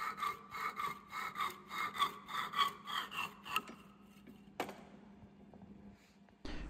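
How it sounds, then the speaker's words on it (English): Metal bits being cut by hand for welding in a workshop, a rhythmic back-and-forth rasping saw stroke repeated about a dozen times, close and fairly quiet, then stopping, followed by a sharp knock and a faint clunk. "And I'm cutting a few more bits that I'm going to weld on as well."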